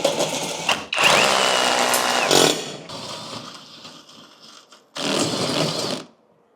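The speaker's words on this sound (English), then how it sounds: "I've gone for an impact driver, but I've got to be careful." Impact driver sinking a screw into a plasterboard wall during a TV wall installation, heard in loud whirring bursts with a short pause and a final burst, close to the listener with no talking.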